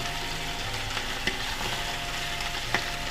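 Ox cheek meat browning in a hot pan gives a steady, moderately loud sizzle and fry, with a couple of brief clicks of tongs or stirring standing out against the constant crackle.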